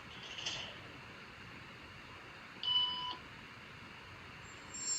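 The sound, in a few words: electronic beep tone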